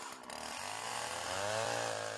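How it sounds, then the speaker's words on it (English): A chainsaw cuts into thick ice under snow, its engine revving up from a lower pitch to a loud, sustained whine, close and with no talk. "chainsaw will be the quickest way of cutting through to an answer"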